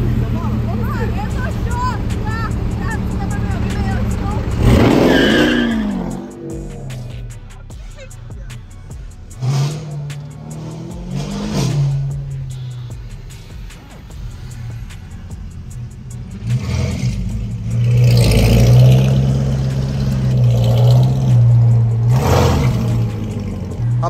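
A Corvette's engine rumbles at idle and rises in several revving bursts, close and loud, with people talking over it at times.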